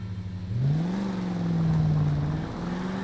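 A car engine in L.A. Noire revs up as the car accelerates, its steady tonal drone rising in pitch, then holding and dipping briefly near the end. It is close, fairly loud and continuous, with no voices over it.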